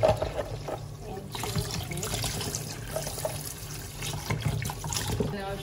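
Eggs being washed slowly under running tap water: a continuous close stream of water splashing and trickling for several seconds, with faint background noise and no talk.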